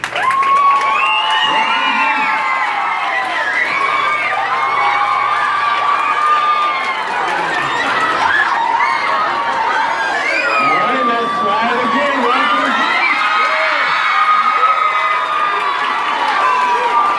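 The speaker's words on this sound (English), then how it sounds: "please give him a round of applause" A school audience cheers, whoops and applauds for a Harlem Globetrotters player, a loud, continuous crowd roar with children's shouts, steady throughout.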